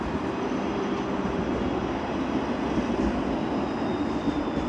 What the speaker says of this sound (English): And a busy streetcar line.